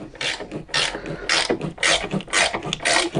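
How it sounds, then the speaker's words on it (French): A ratchet wrench clicks steadily as it tightens the bolts holding the upper control arm of a Chrysler 300C resting on its wheels, with close, rhythmic bursts of ratcheting strokes. "on peut serrer les 4 vis donc qui tiennent"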